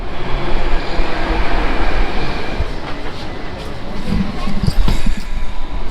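Delhi metro train running, a loud steady rumble and rush of rail noise from inside the carriage, continuous throughout with no talking.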